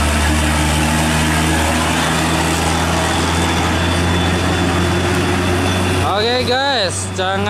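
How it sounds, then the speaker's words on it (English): A dump truck engine rumbles nearby in a deep, steady idle that runs throughout. A voice rises over it near the end. "Banyak dump truck, guys."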